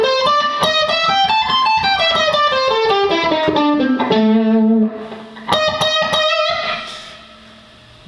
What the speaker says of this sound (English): if we play the blues scale,